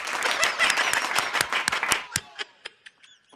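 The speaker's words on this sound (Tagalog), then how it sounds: "Palakpak." Audience applause at a political speech, a dense burst of many hands clapping that thins out after two seconds into a few scattered, separate claps fading away.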